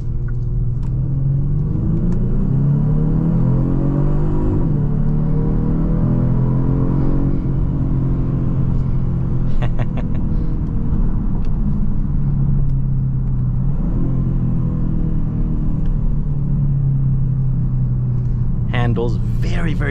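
A 2023 Genesis G70 cruising on the highway in Sport Plus mode gives a loud, constant interior drone of engine and road rumble, with the engine pitch rising and falling as the car accelerates, and some brief clicks near the end.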